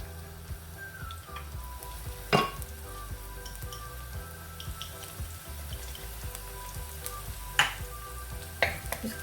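Garlic fries lightly in hot oil in a pan, a soft, steady low sizzle close by with a few sharp clicks and spatters, no voices.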